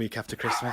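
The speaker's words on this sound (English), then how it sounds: "And that's the dog going absolutely mad." A dog barks frantically at someone at the door, a quick burst of loud, close yaps and yips mixed with a person talking.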